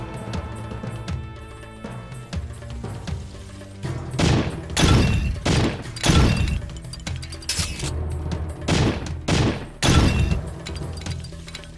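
M60 machine gun firing in the Sega Saturn game Powerslave, several loud, harsh bursts of shots with clinking, shattering impacts, spaced irregularly through the middle and later part after a quieter start.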